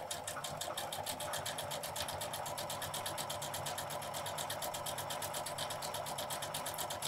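A Janome sewing machine fitted with an edge guide foot stitches steadily, a fast, even needle rhythm running loud and continuous without any talk.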